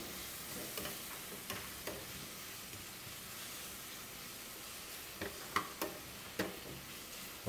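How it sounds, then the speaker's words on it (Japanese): Onions sizzle in a pan for oyakodon, a soft, steady frying hiss with occasional clicks and scrapes of stirring, heard alone without talk. "いいですね、このジュージューいう音ね、いいですよね"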